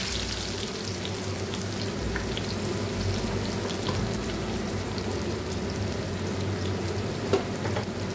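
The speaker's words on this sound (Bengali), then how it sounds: "এই পেঁয়াজগুলোকে ভালো করে অল্প আঁচে পেঁয়াজ বেরেস্তা করে নেব" Thinly sliced onions frying in oil over low heat, a steady, even sizzle and crackle close by that continues unbroken throughout, with only a faint clink near the end.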